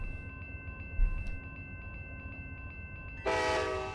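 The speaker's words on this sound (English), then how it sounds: "I like this train" A train in the Run8 train simulator game on the Sanford Subdivision sounds a loud sustained horn blast near the end, over a low steady rumble with faint clicks.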